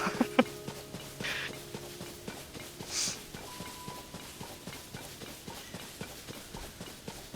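Horse hooves clip-clop at a steady walking pace in Zelda: Tears of the Kingdom, soft regular footfalls with a few brighter chimes and effects early on, quiet and even throughout.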